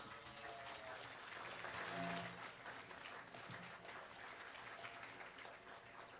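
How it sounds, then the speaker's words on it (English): An audience at a 2011 Westside candidate forum in Ventura, California, applauding before the first round: a faint, fairly distant spread of clapping from a crowd, swelling slightly then fading, with no clear speech. "could I get a round of applause now for everyone before we start?"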